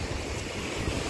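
Steady broadband wash of surf with low rumbling swells, continuous and fairly close, mixed with some wind noise; no voices.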